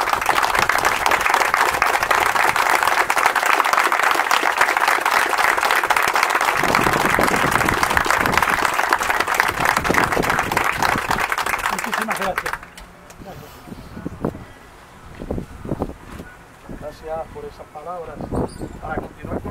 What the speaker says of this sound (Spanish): yo les pido un aplauso grande